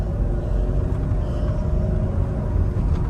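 Cabin sound of a 2005 Mercedes-Benz SL500 R230 with a coilover conversion, driving; a steady low engine growl and road rumble hold close and loud throughout, with no talking.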